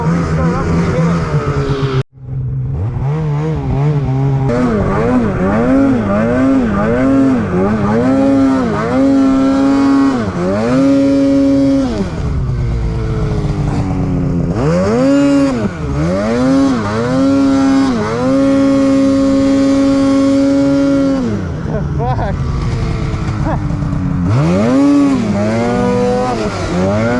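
An engine with a freshly repaired finger throttle runs loud and close, its revs rising and falling in repeated swells with several longer held high-rev pulls and a brief cut-out near the start.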